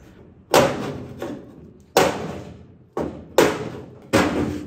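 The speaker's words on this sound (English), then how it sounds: "I'm reaching inside with the pry bar and hammering on this part here" Five heavy metallic whacks land at uneven intervals, a hammer and pry bar striking a 1958 Triumph TR3 body panel from inside, each a sharp ringing hit that decays briefly before the next.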